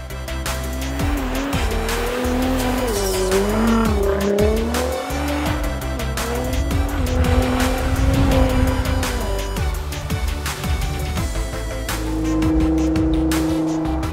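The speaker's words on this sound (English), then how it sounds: "Robert's Nissan GTR is tuned to around 700 brake horsepower and has 8mm spikes on the tyres for extra grip." A tuned Nissan GTR of about 700 horsepower, its tyres fitted with 8mm spikes, climbs a ski slope with a loud, sustained engine roar whose pitch rises and falls with gear changes and throttle, with no talking.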